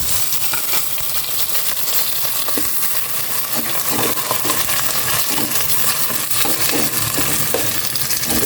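Sliced chicken breast sautéing in a home kitchen pan, a steady loud sizzle with scattered light clinks and scraping stirs running without pause.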